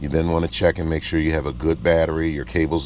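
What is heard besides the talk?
No everyday noise stands out behind the speech.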